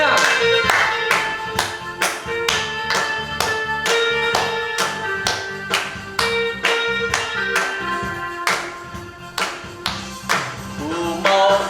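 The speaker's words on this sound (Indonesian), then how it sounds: "Mari kita tepuk tangan semuanya." Rhythmic hand clapping from a Sunday school congregation at an online service, steady beats keeping time under singing and music, close and fairly loud.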